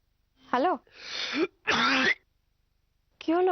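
A person coughing and clearing their throat, several close, harsh bursts separated by short pauses, with a voiced, strained quality in a quiet indoor setting.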